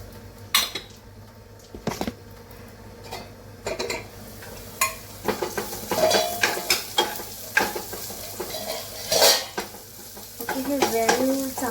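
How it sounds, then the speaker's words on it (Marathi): Dal is tempered in hot oil, spices sizzling steadily beneath repeated sharp clinks and scrapes of a metal spoon against the pan, close up, with the clatter growing busier toward the end. "आपण इथे डाळीला फोडणी पण देऊया"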